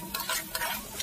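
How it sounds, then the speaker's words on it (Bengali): A spatula scrapes through spice paste frying in oil for a snakehead fish curry, giving a brief sizzle with three quick stirring strokes, close and clear. "তো আমি ভালোভাবে এবার মশলাটা এর উপরে কষিয়ে নেব।"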